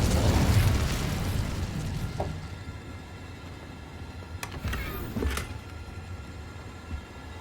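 The Incendio fire spell from Hogwarts Legacy bursts with a whooshing blast up front that fades into a crackling tail, followed by a couple of short sharp pops, with no talking.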